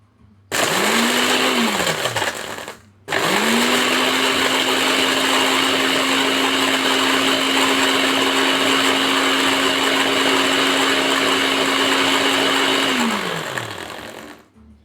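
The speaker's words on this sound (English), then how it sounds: "I hope my blender won't break." A blender grinds dried chili peppers into powder, spinning up loudly, briefly stopping, then running in one long, steady whirring burst before winding down.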